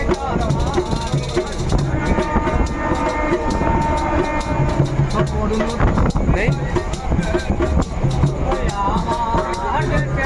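A moving train rattles and rumbles steadily while people sing Manasamangal jhapan songs and talk loudly nearby inside the carriage.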